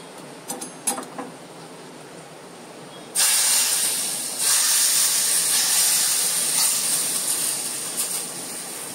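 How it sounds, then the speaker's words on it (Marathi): Hot spiced oil tempering with chilli powder poured over a thin taro leaf curry, bursting into a loud sustained hiss and sizzle after a few faint clinks, fading slowly while staying strong. "अशी चुरचुरीत फोडणी झाली पाहिजे छान."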